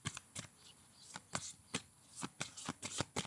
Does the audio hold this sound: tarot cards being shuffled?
yes